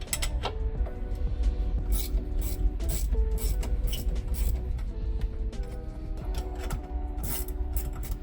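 A wrench ratchets repeatedly while loosening bolts on the ceramics of a TSF2021 pressure washer pump, rapid clicking in bursts with metallic creaks, close up and continuous.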